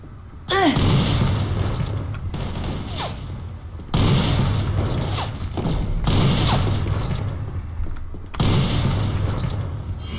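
Pistol and gun fire in a team-based first-person shooter video game, three sustained loud bursts of rapid shots and impacts separated by short gaps, with faint talk underneath.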